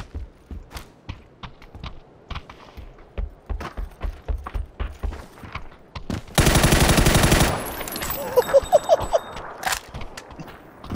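Gunfire in PUBG: a run of sharp, evenly spaced shots in the first six seconds, then a dense burst of loud sustained noise followed by several closely spaced cracks near the end.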